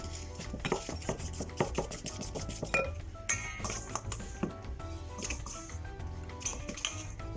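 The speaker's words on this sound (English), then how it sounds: "Mixing it around, and then the butter is slowly absorbing the icing sugar" Butter and icing sugar being stirred together in a mixing bowl for a Victoria sponge, a steady run of soft scraping, squishing strokes and light clinks against the bowl, close up, with no talk.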